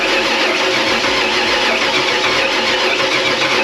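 A supercharged 347 Ford Foxbody V8 running on Holley Super Sniper fuel injection cranks and catches. Its loud, close, steady mechanical roar fills the whole stretch without a break.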